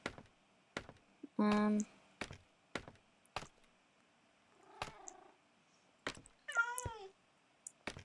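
A cat in the Minecraft video game meows several times, short tonal calls between sharp clicking and tapping sounds, with no one talking over them.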